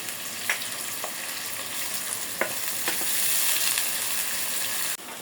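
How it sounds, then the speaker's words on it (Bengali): About a cup and a half of onions frying gently with spices in a pan: a continuous close hiss of sizzling oil, punctuated by a few scattered utensil taps and scrapes, with no voices. "পেঁয়াজটা আমি একটু নরম করে নেব হালকা মোটামুটি ভেজে নেব"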